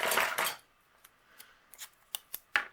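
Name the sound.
cutting a border on a paper card panel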